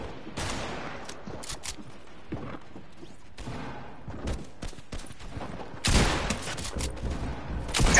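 Bursts of rapid minigun fire from a video game, sustained and heavy spraying in stretches, with a louder burst near the end, and no clear talk.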